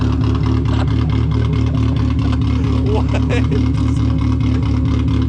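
A cammed Mazda Miata engine idles steadily with a low, pulsing rumble that stays constant throughout, while someone talks over it.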